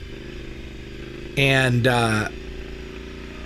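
Triumph Scrambler 865cc motorcycle with an aftermarket exhaust, its engine growling in a loud, close rev of about a second that rises, dips and drops away, with brief speech beside it.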